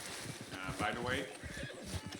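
A horse whinnies in Red Dead Redemption 2 in a rising and falling squeal over a low rumble, with a voice speaking around it.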